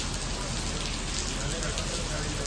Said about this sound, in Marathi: अचानक जोरात हवा सुटली आणि पाऊस चालू झाला.